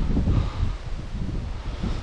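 Steady wind blows across an outdoor waterhole at Allans Flat while fishing, a constant low rumbling buffet on the microphone with gentle gusts and no voices.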